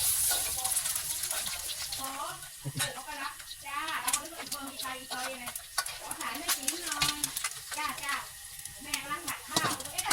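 An egg fries in a pan in a Thai street-food kitchen, a steady loud sizzle that runs throughout, with voices talking over it close by.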